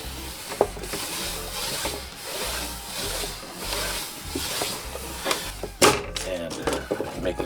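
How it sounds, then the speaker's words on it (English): A lino cut kit burnisher rubs across glue on a board being prepped with black velvet, giving a steady scraping, rubbing sound in repeated strokes, close and moderately loud, with a sharper knock near the end. "I have this Lido cut kit that has a built-in burnisher for making prints, and I'm just going to use that to burnish the glue"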